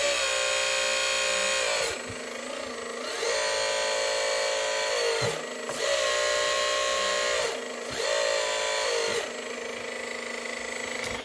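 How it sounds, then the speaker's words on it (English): Hydraulic rams on a radio-controlled CAT 14M model grader whine steadily as they steer the front wheels, the electric motor tone holding under a series of brief pauses and restarts, close and fairly loud, with no talking. "there's actually a lot of power that goes in when the hydraulic rams rotate and rotate the front wheels and control the steering"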